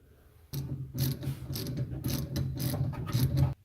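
A hand ratchet clicks in quick rapid bursts, close and clear, while tightening the upper shock nuts from inside the trunk of a 1964 Mustang during a rear suspension rebuild.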